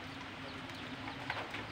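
A hen with her chicks clucks faintly and softly in the distance, a few scattered calls over a steady low background hum, with no voices.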